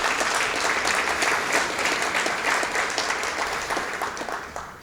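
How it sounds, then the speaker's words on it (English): Audience applause for Nick and Ashlyn at a Press Club event, a dense, steady wash of many hands clapping at close range that holds strong and tapers slightly toward the end. "Can I get a round of applause for Nick and Ashlyn?"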